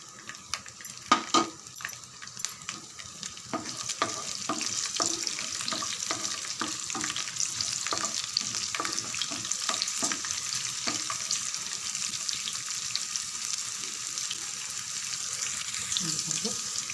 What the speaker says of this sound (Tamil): நல்லா பொரிய ஆரம்பிக்கட்டும்